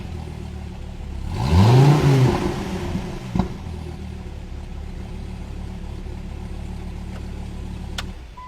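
A Dodge Viper ACR street-legal race car gives one sharp throttle blip that rises and falls quickly, then settles into a low, steady idle with a faint click afterward.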